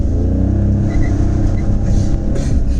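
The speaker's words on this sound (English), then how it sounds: "I'm gonna launch the car once just to show you how peppy this engine is." A first-generation Maruti Suzuki Alto launches hard, its small engine revving in a steady, loud low drone with wheel spin, close and without speech.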